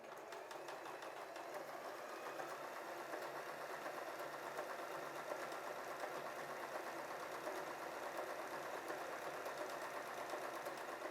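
A W6 N 1615 sewing machine appliques blue fabric onto white, its motor humming steadily with a fast, even stitching rattle that runs continuously and close up, with no talking.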